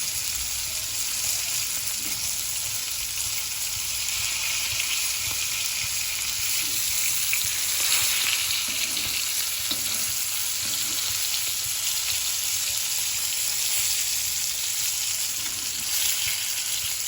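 Marinated bangda mackerel fries in a pan with a steady, loud sizzle that holds evenly throughout, with faint stirring now and then and no talking.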